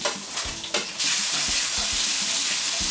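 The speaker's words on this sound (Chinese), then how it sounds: "把这几个菜炒一炒" Zucchini and other vegetables stir-fry in a hot pan: a few scraping stirs, then a loud, continuous sizzle with rhythmic tossing clatter beneath.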